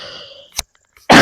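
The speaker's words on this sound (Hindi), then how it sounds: "अरे बाप रे, खांसी हो गया" A single cough from a teacher during a live online maths class, loud and close, a brief sharp burst that follows some trailing tonal sound and a small click.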